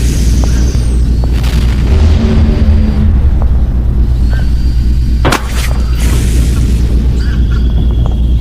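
A device fires an aimed beam and something explodes, giving one sharp, loud blast partway through. Before and after it, a constant heavy low rumble fills the scene.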